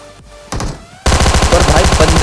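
Gunfire in an online shooter video game: a brief burst, then a loud rapid automatic string of shots with steady rhythm, close and dominant after a quieter start.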